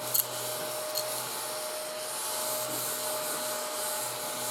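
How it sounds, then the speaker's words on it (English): A small ladybug-shaped desktop vacuum cleaner runs steadily close by, giving a continuous whirring, rubbing hum while it cleans up craft debris, with no talking. "I'm going to use my handy dandy little ladybug desktop vacuum cleaner that I got off Amazon to clean up"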